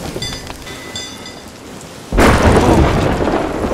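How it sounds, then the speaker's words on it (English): Thunder from a lightning strike in the pirate game Sea of Thieves cracks in suddenly and loud over steady rain, rumbling on as a heavy downpour continues. "I'm struck by lightning."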